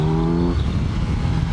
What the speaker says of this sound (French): t'as ce bruit, t'as ce ronronnement du 4 cylindres